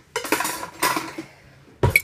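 A fork or spoon clinking against a bowl while mixing a spicy Cajun beef jerky marinade, a few close, bright metallic scrapes and taps, with a short pause before a final clink.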